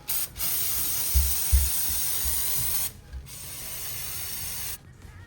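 Steady hiss of an aerosol spray, brake cleaner being sprayed on a J37A4 engine's transmission in a long burst, pausing briefly, then a second sustained burst with faint clunks underneath.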